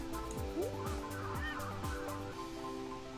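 Birds honk and squawk in a video game, a goose-like calling repeated over a busy layer of game music and effects, fairly faint.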